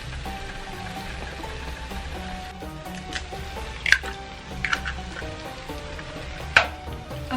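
Eggs frying in a frying pan for Middle Eastern shakshuka, a steady close sizzle and crackle with a few sharper pops and light utensil taps.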